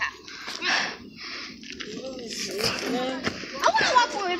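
A dog whimpers and yips in short bursts amid lively chatter from a group of people on a woodland hike, the animal sounds close and mixed under overlapping voices.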